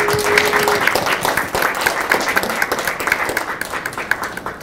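Audience clapping at a Liberty Korea Party political event, a dense steady patter of many hands that carries on for several seconds, with a faint voice partly mixed in at the start.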